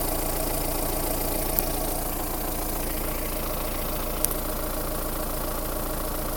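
Mahindra Roxor engine idling steadily after a cold start, a constant, even mechanical drone with a faint rapid knock, close and alone, broken only by two brief sharp clicks.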